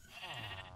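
A sheep in the video game Minecraft lets out a single short wavering bleat, fairly quiet and close, with no talk over it.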